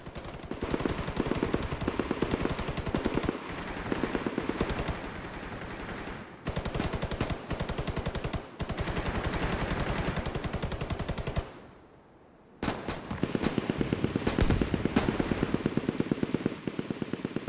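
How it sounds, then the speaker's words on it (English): Rapid automatic gunfire from The Division 2 benchmark run, loud and dense bursts of shots with brief pauses between volleys, no talking. "So we'll just listen to some gunfire."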